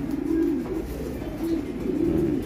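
Racing pigeons of a Japan line cooing close by in a loft, soft low repeated throaty coos in several rounds over a faint background hum.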